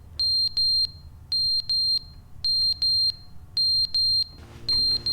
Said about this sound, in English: I don't want to hear that annoying beep.